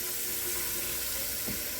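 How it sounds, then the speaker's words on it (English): Ice-cold tap water runs steadily into a cooking pot at a kitchen sink, a continuous close hiss and splash with no talking. "I'm going to put cold water in here, and this water is ice cold"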